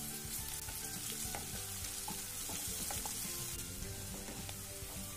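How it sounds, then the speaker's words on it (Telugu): Onions frying with ginger garlic paste in oil, a continuous soft crackling sizzle with faint stirring, heard close but fairly quiet and without voices. "పచ్చివాసన పోయే వరకు వేయించుకోండి"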